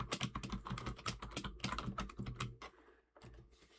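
Rapid keystrokes on a computer keyboard come as a dense, irregular run of close clicks and taps that slows and thins toward the end, with no talk over them.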